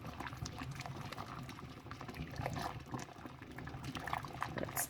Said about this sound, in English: You need a rolling boil, but you do not need a crazy boil like that